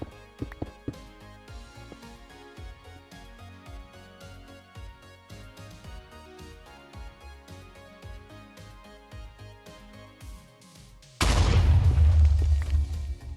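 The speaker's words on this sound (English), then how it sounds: "Speaking of explosions" Minecraft game audio: a run of light clicks and hits, then a sudden loud explosion near the end whose dense roaring rumble holds for about two seconds.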